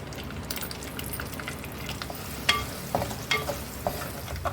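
Black mustard seeds, chana dal, urad dal and hing crackle and sizzle in hot oil for a sambhar tempering, a close, steady fry with scattered sharp pops and a spoon stirring.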